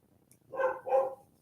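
Rosie the dog gives two quick barks in a row, a little distant, in an otherwise quiet room at home.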